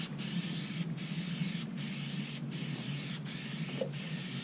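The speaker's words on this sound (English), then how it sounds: "Once you get your top piece sprayed, you just go ahead and spray the carpet." Strong contact adhesive is sprayed onto boat carpet and its top piece for a jon boat, a faint, steady hiss broken by several brief pauses at regular intervals, with no voices.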